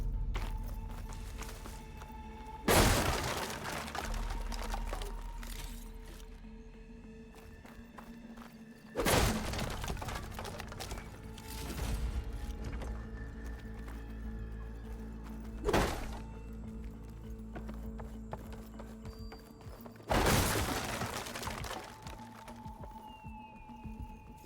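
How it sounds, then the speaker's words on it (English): Explosions in the video game Horizon Forbidden West: four heavy booming blasts at irregular intervals, each a sharp loud impact that fades over a few seconds, set against a steady low ambient game background. "I hear explosions."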